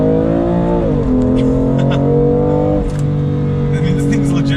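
BMW M2 Competition floored in fifth gear, a loud, close engine note rising steadily in pitch with a brief shift in tone partway through, heard from inside the car without talk.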